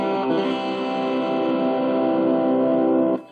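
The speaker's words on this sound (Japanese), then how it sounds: "スーパーオーバードライブ。" An electric guitar with its volume turned fully up, played through a Super OverDrive distortion pedal, rings out one thick, sustained distorted chord for about three seconds before it is cut off abruptly.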